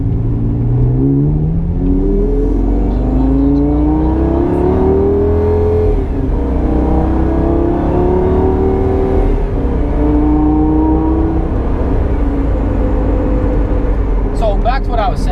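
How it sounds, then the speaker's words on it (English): A car passes through a highway toll plaza, with a steady engine hum and road drone heard from inside the cabin and a slight rise in engine pitch along the way. "I'm going through a toll."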